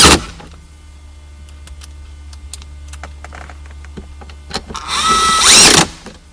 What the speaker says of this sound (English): Reinstall the 2 screws in the center vents.